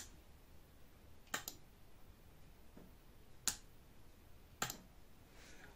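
An electrical relay switching a 220 V bulb load gives a few sharp, isolated clicks spaced about a second or more apart against a quiet background.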